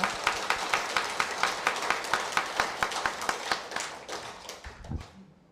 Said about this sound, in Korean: 딱 맞는 노래를 해준 합창단께도 큰 박수 보내드립니다